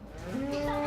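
A single drawn-out cow moo, low and steady with a slight upward bend, from the soundtrack of the game That Dragon, Cancer.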